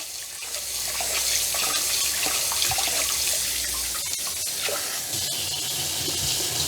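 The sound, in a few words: rice being rinsed in water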